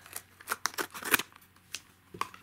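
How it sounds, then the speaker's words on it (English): Scissors snipping through toy packaging in short, crisp cuts and rustles at close range, fairly quiet against a low background hum. "I'm going to have to use that scissors."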